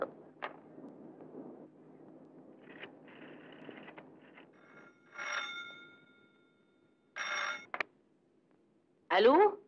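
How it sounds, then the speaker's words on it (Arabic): A telephone in an old Egyptian drama film rings in three short, bright bursts spaced a couple of seconds apart, coming after quieter background sounds and a voice. "تليفون عشانك يا ستي."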